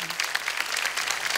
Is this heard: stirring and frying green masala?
no